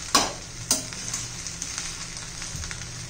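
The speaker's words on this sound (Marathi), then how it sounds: "व्यवस्थित मी मिक्स करून घेते।" Veg Schezwan fried rice being stirred in a pan, with two sharp scrapes of a spatula near the start over a steady close sizzle and softer repeated stirring strokes.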